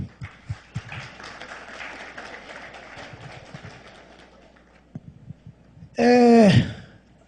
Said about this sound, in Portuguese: Palmas para vocês agora